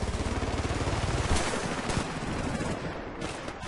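A Thompson submachine gun fires in the video game Battlefield Bad Company 2. Loud, rapid automatic bursts rattle continuously, then thin into scattered distant gunfire.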